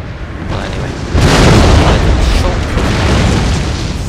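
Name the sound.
artillery bombardment explosions in video game Napoleon Total War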